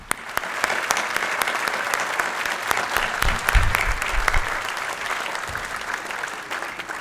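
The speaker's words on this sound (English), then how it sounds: "Let's have one more round of applause for these dedicated men and women." Sustained applause rings out from the crowd at a Metropolitan Police Department annual awards ceremony, a full, steady round of clapping that swells briefly in the middle before easing, with no talking over it.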